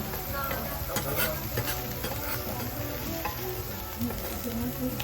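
Okonomiyaki, a Japanese savoury pancake, fries on a hot griddle at a DIY restaurant in Osaka, giving a steady, close crackling sizzle with soft scraping as it is turned.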